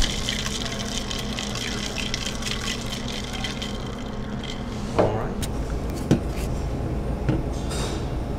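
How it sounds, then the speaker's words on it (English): Soda water pours over a sugar-rimmed glass, a continuous fizzing, splashing liquid stream close by with a few sharp clinks toward the end. "This is just a little bit of soda water."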